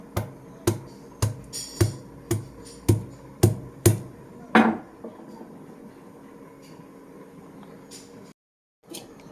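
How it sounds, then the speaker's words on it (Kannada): A medium-sized piece of ginger is pounded and crushed with about nine sharp, evenly spaced thuds, loud and close, followed by a few seconds of quiet room noise. "ಒಂದು ಮೀಡಿಯಮ್ ಸೈಜಿದು ಶುಂಠಿ ಇವಾಗ ಸ್ಟಾರ್ಟಿಂಗ ಇದನ್ನು ಜಜ್ಕೊಳ್ತೀನಿ"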